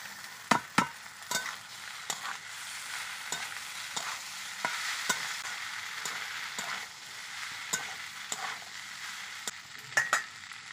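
An egg and flour snack fries in a pan with a steady sizzle, while repeated sharp scrapes and taps of a stirring utensil punctuate it throughout, close and clear with no talk.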